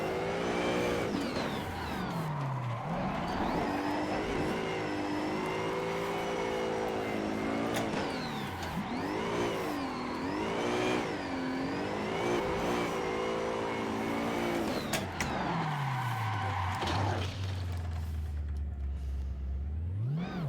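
Car engine in the Assetto Corsa driving game on a sim rig during drift practice at a Long Beach course, revving hard in repeated rising and falling swoops, with a deep drop and climb near the end, loud and alone.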